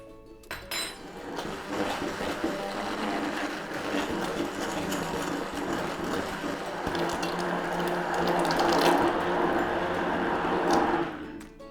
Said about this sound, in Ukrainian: І тепер ми будемо перебувати його у пюре.